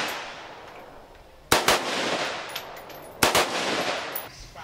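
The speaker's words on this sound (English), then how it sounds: "Now, Let's shoot some guns." Guns fired at the Cu Chi tunnels in Vietnam, two loud sharp shot bursts with echoing tails over a background of distant popping.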